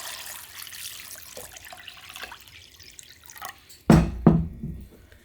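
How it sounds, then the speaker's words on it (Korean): Water poured onto sliced Korean rice cakes for oil tteokbokki, soft trickling and dripping close by, then two sharp louder splashes near the end. "이렇게 떡쪽 썰은 거에다가 물을 좀 부으세요."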